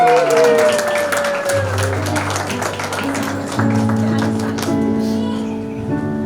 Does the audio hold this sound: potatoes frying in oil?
no